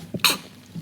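A single quick sneeze, close and sharp, bursting out on a podcast set with a soft lead-in breath and nothing else around it.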